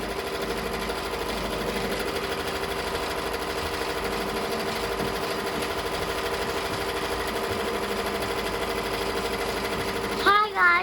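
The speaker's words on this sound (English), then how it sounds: "I can go ahead and start embroidering" A Ricoma EM1010 embroidery machine stitches a design with a steady, fast mechanical chatter and hum running unbroken for about ten seconds, with a brief voice near the end.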